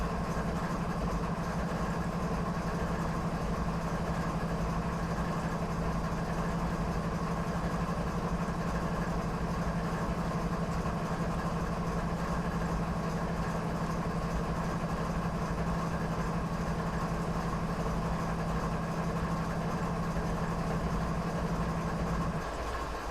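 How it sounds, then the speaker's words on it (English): Train locomotive in Train Simulator 2019, a CP Rail freight heading westbound toward Field on a winter night: a steady, loud diesel engine drone with a constant low hum, continuous and unchanging as it begins to move. "Train starts to roll."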